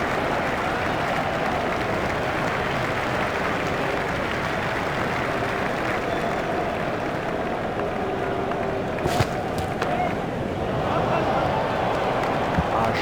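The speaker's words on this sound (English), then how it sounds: "He deserves the applause from the crowd today" Steady, dense crowd applause and cheering fill the whole stretch at an even level, marking a half-century in the EA Sports Cricket game's 2005 Ashes first Test at Lord's, with a few sharper bursts near the end.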